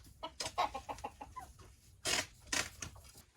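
Native Korean chickens cluck in a quick run of short clucks, one of them in poor condition, then give a couple of louder, drawn-out squawks, fairly faint and close.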